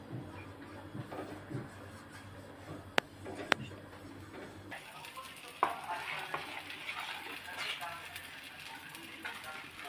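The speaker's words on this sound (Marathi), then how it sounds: "तवा ठेवलेला आहे तव्याला तेल लावून घेत आहे" Oil sizzles faintly on a tava while a potato paratha fries in a home kitchen, with occasional clinks of a utensil, soft and steady beneath quiet background noise.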